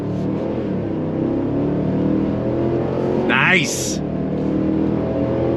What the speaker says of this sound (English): You got that V8 rumble, naturally aspirated power.